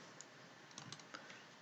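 Keys clacking on a computer keyboard during a tutorial on typing Javanese script, with soft scattered clicks over a steady hiss and a few sharper taps.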